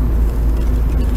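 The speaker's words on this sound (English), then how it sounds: "Yes, I'm driving to Ljubljana." A car driving on the road toward Ljubljana, steady low engine and road rumble heard from inside the cabin, continuous and fairly loud.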